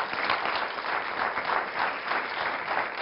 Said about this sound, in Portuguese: Uma salva de palmas para os nossos convidados.